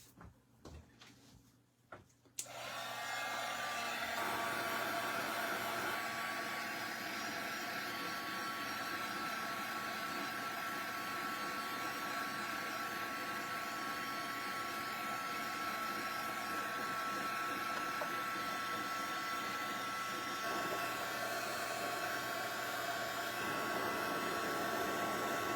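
A drying tool, likely a heat gun or hair dryer, blows steadily over mixed-media medium on a repurposed vinyl record, a loud continuous whir that starts abruptly after a brief quiet pause and holds unbroken to the end.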